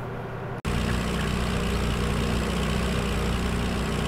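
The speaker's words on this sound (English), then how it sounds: "It's a lower horsepower tractor, believe it or not, than the Ford." A lower-horsepower tractor engine idles in a farming survival game, a steady low rumble that cuts in after a brief pause and then holds even and loud.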